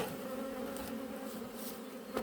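A honeybee swarm in June hums steadily and close, a continuous buzzing drone with no talk over it.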